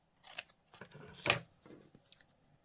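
Scissors trimming paper for an ink drawing, a few short snips followed by one louder, crisper cut, close and alone with no talk.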